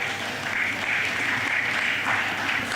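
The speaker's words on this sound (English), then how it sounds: "So let's give them a round of applause round back there." Steady, moderately loud round of applause from an audience at a diabetes management seminar in Jamaica, clapping for the caterers, continuous and even with no talk over it.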